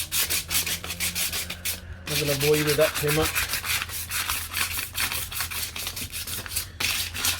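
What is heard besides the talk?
sanding car paint with fine grit sandpaper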